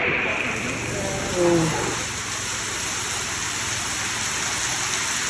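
Rain falls at the busy Mapusa Friday market in Goa, a steady wide hiss throughout with people's voices and market noise underneath.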